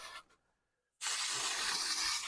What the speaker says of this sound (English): So it gives you an opportunity to spray them all off.